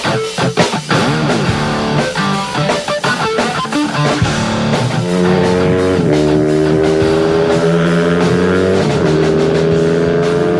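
A motorcycle engine rises in loud, buzzing revs as the rider rolls on the throttle out of a corner, pitch climbing and settling into a steady high drone, with no talk.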